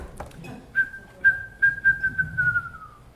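A person whistles an imitation of a wrentit's call, a series of short, evenly repeated high notes that speed up slightly and trail off, heard close and clear with no other sound.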